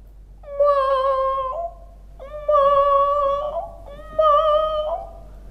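A human voice imitates cats meowing toward the sky, three long, drawn-out wavering meows of nearly equal length with short pauses between, loud and close.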